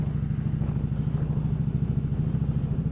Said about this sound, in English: I'm amazed how quick this bike can get up to 30, 40 and 50 miles an hour.